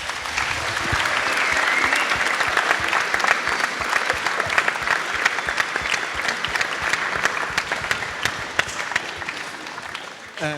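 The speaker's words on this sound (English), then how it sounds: "give maybe a massive round of applause for our panel of guests" A large audience applauds a panel of guests at a GAA wellbeing event, with dense, steady clapping that holds loud for about ten seconds and eases slightly at the end.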